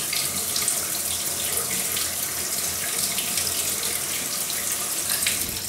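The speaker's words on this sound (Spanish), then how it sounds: "Ahora la vamos a enjuagar bien debajo del agua y apretando al mismo tiempo," An onion rinsed and squeezed under a running kitchen tap: a steady, close, full stream of water splashing into a sink, continuous and alone.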